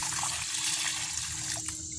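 Laundry water poured out from a wringer washer onto a garden, a steady, close splashing stream that runs continuously without a break.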